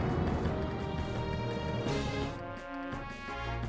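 A heavy hit lands in the Pokemon Stadium 2 video game, a loud crashing impact with dense, booming game sound that stays loud for a few seconds before dipping slightly.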